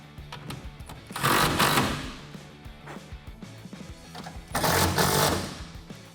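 An impact power tool fastens the bracket of a hinged tonneau cover on a 2019 RAM 1500 pickup, firing two loud rattling bursts of about a second each, separated by quieter clicks and handling noise.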